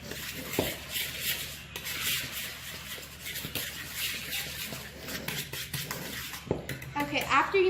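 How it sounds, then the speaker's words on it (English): Funnel cake batter of flour, sugar, baking powder and salt being mixed in a bowl, with repeated scraping and clinking of a utensil against the bowl in an uneven rhythm, up close. "You can just mix the salt in with it, just for like a minute or so."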